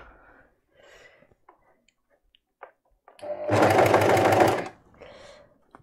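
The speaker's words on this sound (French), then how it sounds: "Alors je vais coudre" A domestic sewing machine stitches a children's garment in a steady, loud burst of a little over a second, following a stretch of quiet, faint movement and breathing; no one speaks.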